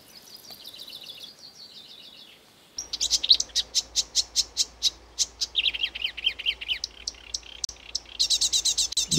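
Breeding birds sing in the Peel wetlands of the Netherlands, among them the marsh warbler. A high, thin trill gives way to loud, rapid, rhythmic chirping phrases repeated close by, with no voices.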